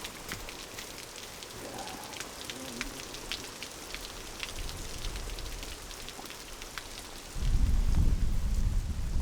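Steady rain falls on Jirisan mountain on a misty, cloudy day, pattering with scattered drops. A deep rumble swells near the end, like distant thunder or heavier runoff.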